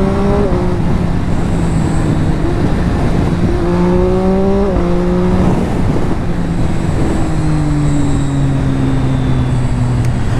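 The exhaust of a Triumph Street Triple motorcycle: a loud, close engine note whose pitch climbs and drops as the revs rise and shift, steady throughout.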